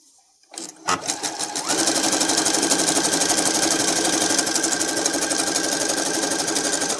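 A sewing machine runs a continuous zigzag stitch, starting up after a brief pause and holding a steady, fast, loud mechanical whirr with a rapid rhythmic clatter throughout.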